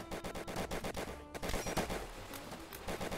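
Rapid WW2 rifle and machine-gun fire from a battlefield in the game Easy Red 2: dense, overlapping sharp cracks in quick succession, loud and continuous with a brief lull midway.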